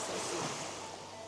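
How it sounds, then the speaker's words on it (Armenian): Sea waves breaking on a beach at an island shore, a steady broadband wash of surf close by with no talking. "Ծովի ալիքը"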